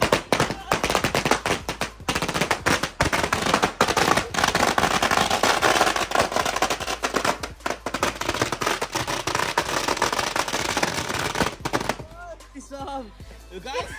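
A string of 600 firecrackers goes off for Diwali, a loud, dense crackling barrage of rapid bangs that lasts about twelve seconds and then stops, leaving faint voices behind.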